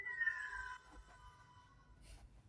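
A pet cat gives one faint, drawn-out meow that slides downward, followed by quiet indoor room noise.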